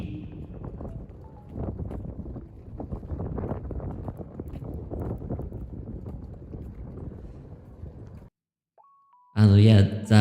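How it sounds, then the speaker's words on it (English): Cold wind buffets the microphone outdoors in Stockholm, a loud continuous rumbling gust for about eight seconds, then a sudden drop to near silence before a brief burst of loud noise at the end. "the wind was too cold"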